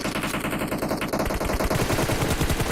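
Dense, rapid automatic gunfire fills a PUBG Mobile esports match, with bursts layered in continuous rattling volleys that sound close and loud throughout, with no talk over them.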